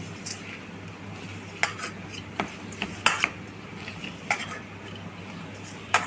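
Flour being mixed with a small spoonful of mustard oil in a bowl for samosa dough, giving scattered light scrapes and clicks of utensil against bowl over a low steady hum, with no talking.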